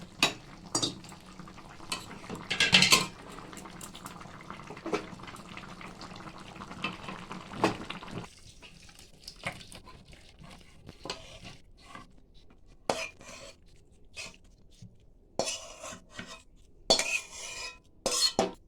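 A spoon scrapes and clinks against a curry pan as jackfruit dalna is poured out, scattered close metallic knocks and scrapes over a low kitchen background.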